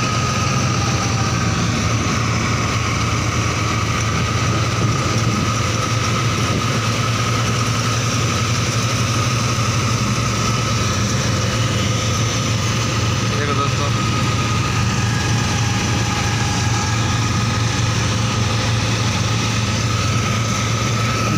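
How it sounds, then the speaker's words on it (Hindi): Two New Holland 3630 tractors run together in a field making wheat straw, a steady low engine drone with continuous mechanical rumble throughout, loud and close, with no clear change in pace. "दोनों मशीनें चल रही है, एक किले में दो ट्रैक्टर।"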